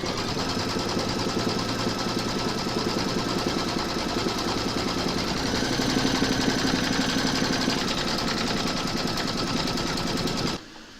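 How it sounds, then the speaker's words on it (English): A computerized embroidery machine stitches a round on a hooped bib, a steady, fast mechanical chatter that runs loud and even at close range, then cuts off abruptly near the end. "Pop your hoop into your machine and stitch round number 2 to secure it."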